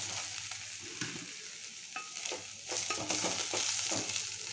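Ginger paste mixture being stirred in a hot pan, a soft steady sizzle with irregular scraping strokes of the spoon throughout, fairly quiet and close, no talking.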